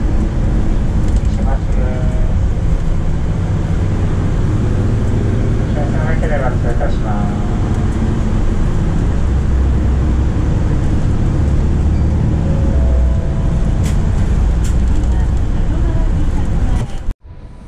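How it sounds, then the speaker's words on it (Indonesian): Steady low rumble of a moving bus interior in Japan at night, engine and road drone filling the cabin throughout, with faint intermittent beeps and chimes and a few muted passenger sounds before it cuts off abruptly. "Jadi kondisi di dalam bis itu kayak gini."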